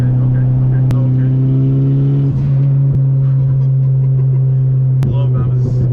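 A big-turbo Honda Civic engine drones steadily under load from inside the car, its pitch dropping briefly at a gear change before holding on again, loud and continuous.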